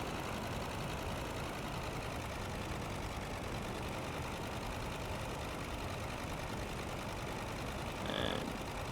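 Steady, droning airplane engine during a banking turn, a constant broadband roar with no breaks, ending in a brief swell of a higher tone.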